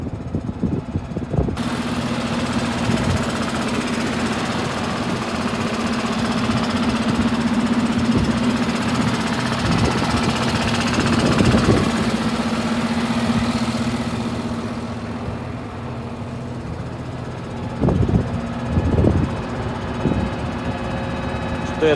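An MTZ 3522 tractor with a 350-horsepower engine runs in a field during liquid fertilizer work, giving a loud, steady idling drone with knocking beats. It eases briefly near the end, then picks up again with a few sharp clanks.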